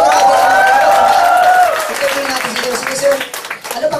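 A presentation audience claps for a first-time attendee, steady applause filling the room while a voice talks over it and the clapping thins toward the end.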